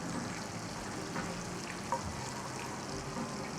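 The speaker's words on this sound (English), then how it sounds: "the pan is sizzling, and that's exactly what you want to have." A pan of butter sizzles steadily with a constant hissing crackle, a few faint pops rising above the even frying noise, no one speaking.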